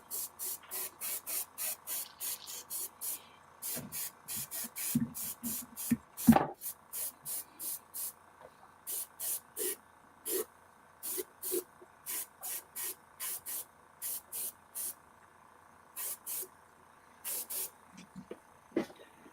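Airbrush spraying paint in a painting shop, short bursts of hiss repeated in a regular on-off rhythm, each lasting a fraction of a second, close, over a faint steady hum with a louder clunk midway.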